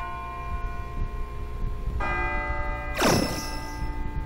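Bells ringing in the video game Persona 3 FES, sustained resonant tolls layered over a low background hum, with a second strike entering midway and a swelling bright chime near the end.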